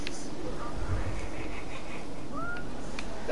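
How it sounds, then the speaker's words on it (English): A cat in a video game meows, with a couple of short, clear mewing cries rising over a steady background hum. Some light voice activity mixes in. "what's wrong with this cat?"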